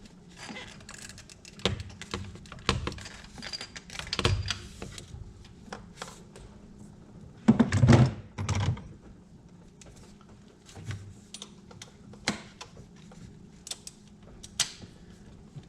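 A ratchet wrench on a spark plug in a 2016 Ford Explorer Sport clicks in scattered bursts, with sharp close ticks and a louder cluster of clicks midway, plus faint handling noise.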